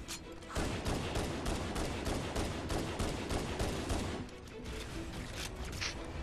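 An alien sidearm fires in Halo: Combat Evolved as a rapid, continuous stream of sharp shots, loud and sustained, easing slightly in the last couple of seconds.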